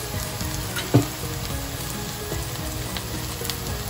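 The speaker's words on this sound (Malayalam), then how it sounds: "ഇതെല്ലാം കൂടെ ഒന്ന് മൂപ്പിച്ചെടുക്കണം" Chili powder, coriander powder and pepper frying in a pan, a constant close sizzle with a single sharp knock near the start and faint utensil scrapes.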